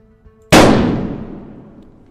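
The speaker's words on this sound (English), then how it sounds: "That's a very loud gunshot" One very loud gunshot in a video game, a sharp sudden blast after a quiet moment, followed by a long fading echo.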